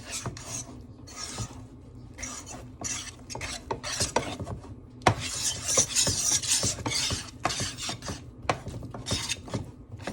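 Roux and cheese being stirred for a soufflé, a utensil rasping and scraping steadily against a pot in repeated close strokes, with no talking.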